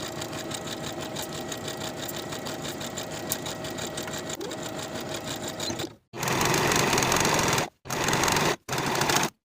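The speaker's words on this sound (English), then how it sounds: "Sew with a 5/8 inch seam allowance" A sewing machine stitches a pant inseam with a 5/8 inch seam allowance, first a steady continuous run of rapid needle chatter, then three short loud bursts separated by brief pauses, close and alone.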